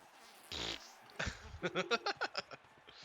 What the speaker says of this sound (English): Or he just gets farted on.